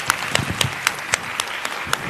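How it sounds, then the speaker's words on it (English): Claps at a university campus panel discussion, heard as a sparse, evenly spaced series of about eight sharp hand claps over a low hum of room noise. "Please join me in a round of applause for our panelists."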